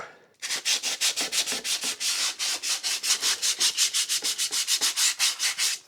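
Rapid rhythmic sanding strokes, a steady back-and-forth rasp of 180-grit sandpaper on the wooden body of a Gretsch 6120-style guitar build, close and fairly loud with no voices.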